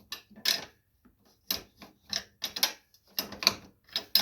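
A wrench works loose a steering part on a John Deere LA135 riding lawn mower, giving close, irregular metallic clicks and ratcheting bursts separated by short silences.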